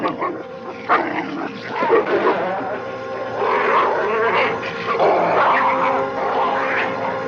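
Distorted dog barks from the score of The Exorcist, blended into a dense, continuous wall of reshaped noise and orchestral texture, sounding harsh and menacing from start to finish without pause.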